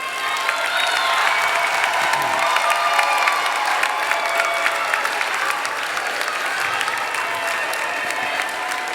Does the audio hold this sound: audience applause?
yes